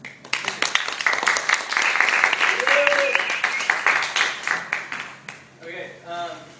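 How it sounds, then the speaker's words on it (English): Audience applause at a student debate, a burst of clapping that swells, holds and then fades, with voices rising at the end. "please hold your applause until we're done with each segment"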